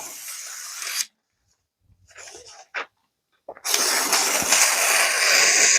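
Cutting test with a Civivi Placoid folding knife, starting with a brief close rasping slice, a short gap with faint scrapes and a sharp tick, then several seconds of loud, steady tearing and slicing.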